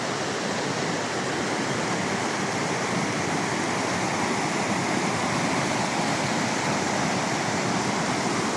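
Strong floodwater rushes past a culvert, a dense, unbroken roar like a waterfall that stays loud and steady throughout.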